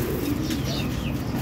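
Breeding pigeons in a home loft, sitting on eggs and raising chicks, give a low, continuous cooing close by, steady throughout the short stretch with no speech.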